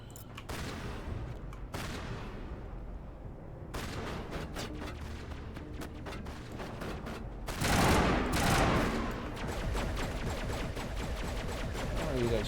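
Sustained bursts of gunfire from the video game Mass Effect, dense rapid shots with loud volleys and blasts, continuous across the stretch with a louder surge partway through.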